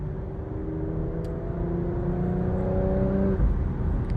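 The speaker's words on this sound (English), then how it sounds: "I love the exhaust though. Like the exhaust is really impressive for an SUV." Porsche Macan GTS SUV with a dual-clutch transmission, its exhaust droning steadily and rising as the engine pulls through a long gear under acceleration, heard from inside the cabin with no talking.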